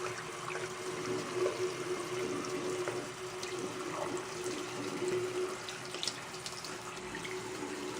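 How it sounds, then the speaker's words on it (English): Tap water runs steadily into a sink while a hand and a makeup brush are rinsed under the stream, with no talking. "So I rinse my hand again"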